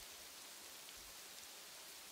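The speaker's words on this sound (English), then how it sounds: "Why did it start raining?" Steady rain falling in a video game, a soft, even hiss of drops holding at a constant low level throughout with no voices.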